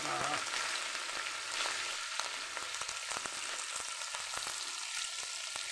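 A generous handful of curry leaves sizzles and crackles in hot oil, a bright steady frying hiss with scattered pops, close and alone.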